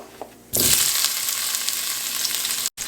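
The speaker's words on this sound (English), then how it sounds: "So you can just fry this potato here for at least 5 to 6 minutes here" Potato pieces drop into a pan of hot oil with cumin seeds and burst into loud, close sizzling after a quiet start, the frying hiss holding steady before a brief cut near the end.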